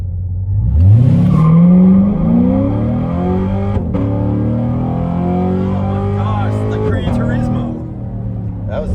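A C7 Corvette Z51 launches hard from standstill to 80, its V8 engine rising sharply through the revs, then droning loud and close through gear changes with brief shift breaks, while people talk inside the car.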